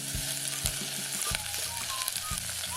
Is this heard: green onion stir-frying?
yes